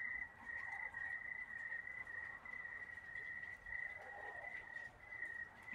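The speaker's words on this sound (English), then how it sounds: "You can also hear the crickets chirping." A steady, continuous high-pitched chirring of crickets carries through a quiet September night with light sprinkling rain, faint and unbroken, with soft background hiss.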